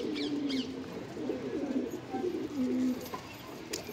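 Low, soft cooing of a Punjabi Takha pigeon in repeated rolling phrases, close by, with faint chirps and background rustle; no talking.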